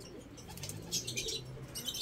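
Pigeons in a loft, soft low cooing from several birds with occasional wing flaps and faint chirps, steady and close, no talking.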